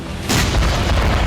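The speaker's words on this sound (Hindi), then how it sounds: "सिर्फ विस्फोट।" A sudden, loud, deep explosion from an attack on a Crimean airbase in the Russia-Ukraine war bursts in and rumbles on with a sustained heavy roar, filling the short moment with no speech.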